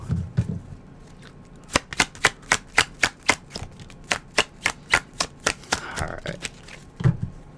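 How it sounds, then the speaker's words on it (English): Cards are riffled again and again in a fast, even rhythm of sharp snaps, close and fairly loud, with no talking. "So we're just going to jump right into it, shuffle our cards"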